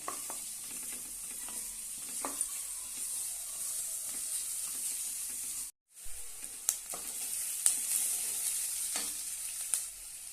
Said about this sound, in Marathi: मी तीन कांदे बार एक असे उभे चिरून घेतलेले आहेत ते घालूया आणि त्याची तेलामध्ये भाजून घेऊया